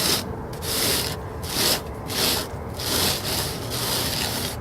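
A float rubs over a fresh rapid-set stucco patch to raise the rough aggregate, a gritty scraping that swells and fades in steady back-and-forth strokes, close and fairly loud, with no voices.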